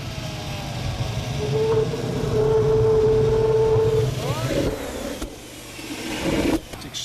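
A scrapheap-built vehicle powered by a jet engine made from a fire extinguisher runs, a rising whine and roar that swells and fades with rattling, clunks near the end.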